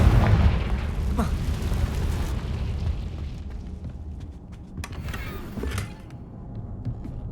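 A Confringo fire spell bursts in the Hogwarts Legacy video game, a loud low boom that rumbles and decays over several seconds, followed by fainter crackles and clicks.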